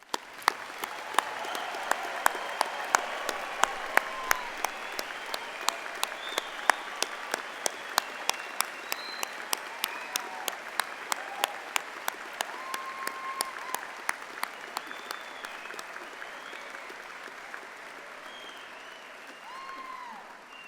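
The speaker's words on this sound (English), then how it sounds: "please join us in giving all recipients of awards and prizes a final" Sustained audience applause at a university Faculty of Management graduation ceremony, a steady wash of many hands clapping in a large hall, continuing evenly for about twenty seconds without talk.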